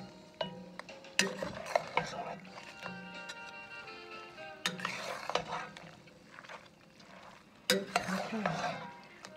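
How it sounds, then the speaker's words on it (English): Lobster pasta being stirred in a pan, with clattering utensil scrapes and clinks in uneven bursts over a light sizzle, some louder strokes standing out, recorded close and fairly quiet overall. "And give it a quick stir."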